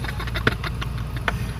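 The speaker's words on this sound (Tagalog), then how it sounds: "Ang aming makina." A fishing boat's gasoline engine idling close by, a low steady throb with faint rhythmic knocking.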